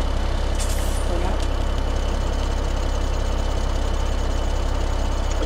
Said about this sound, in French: Donc, on va reprendre ce petit tracteur là.